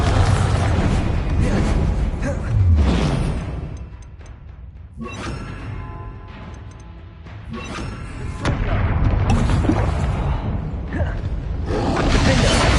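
Bombarda spell blasts in the game Hogwarts Legacy, a few whooshing booms rising and fading against game ambience, with a loud burst near the start and another toward the end, a voice talking at times.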